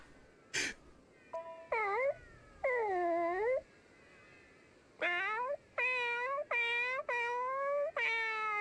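A cartoonish cat named Tom meows repeatedly in the video game Bravely Second, a series of drawn-out, wavering mews and wails after a sharp opening click, each call distinct and close.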